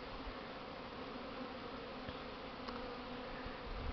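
Honey bees, Central Russian bees near a national park, fly around hives in a strong spring cleansing flight, a dense, even buzzing hum spread evenly throughout, moderately distant and continuous.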